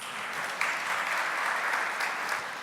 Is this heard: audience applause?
yes